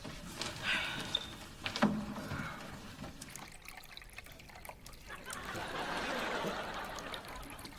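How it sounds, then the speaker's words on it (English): Indoor waterfall water feature running in a home bedroom, a steady soft trickle and splash of water that swells in the later seconds, with a few brief clatters early on and no talking. "It's my waterfall."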